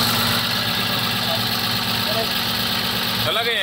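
Truck engine idling after starting during a live fault check, with earlier knocking and heating problems, a steady close mid-pitched rumble with continuous vibration while people talk over it.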